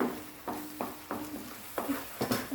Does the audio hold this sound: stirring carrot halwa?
yes